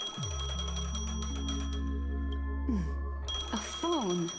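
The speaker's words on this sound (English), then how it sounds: "A phone." A phone rings in the video game Honkai: Star Rail, a bright repeating electronic ringtone layered over a continuous musical game soundtrack with sliding tones, steady and moderately loud throughout.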